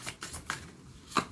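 Oracle cards being shuffled and drawn by hand, a few soft papery riffles and flicks with a sharper snap near the end, quiet and close with no talking.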